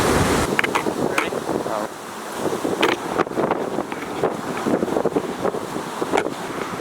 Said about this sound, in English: She's pretty windy today.